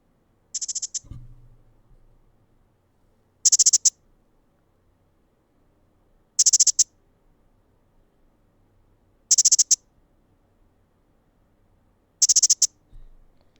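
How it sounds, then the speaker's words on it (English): Short, high electronic locator chirps from Nothing Ear (a) earbuds repeat about every three seconds, crisp and close, with near silence between them and a faint low thump early on. "they'll play a little chirping sound"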